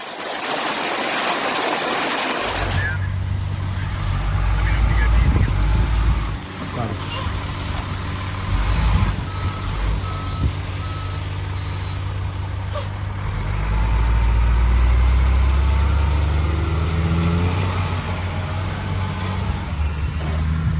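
A large truck rumbles nearby during a wildfire-season rain, its deep engine drone steady and loud under the hiss of rain and running water, with people talking over it.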